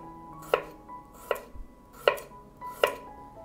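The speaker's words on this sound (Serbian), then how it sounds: "I sad skaću jednu glavicu luka na šnitice." A knife slices an onion on a board in four crisp, evenly spaced chops, close and clear against a quiet kitchen background.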